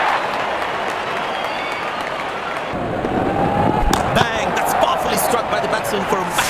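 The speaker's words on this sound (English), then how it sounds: "Openers walking in and the crowd cheering in anticipation." A stadium crowd at a New Zealand versus UAE T20 World Cup cricket match in India cheers and applauds, the roar swelling louder midway, with a commentator's voice in the mix.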